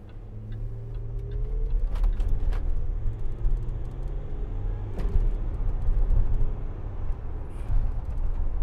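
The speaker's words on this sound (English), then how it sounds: "This is a very bumpy road as well, and suspension on this Discovery, it's still a little bit bumpy" A Land Rover Discovery 4 3.0 SD V6 HSE drives along a bumpy road, its low, steady engine and road rumble overlaid with rattles, ticks and occasional thumps from the suspension.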